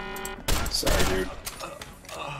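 A short burst of video-game gunfire, several rapid shots clustered together and fairly close, with a voice talking over it.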